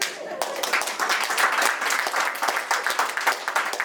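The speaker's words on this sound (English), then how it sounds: "Y'all clap for one." Clapping from a comedy show audience, a lively continuous patter of many hands at fairly close range, holding steady for a few seconds with faint crowd murmur underneath.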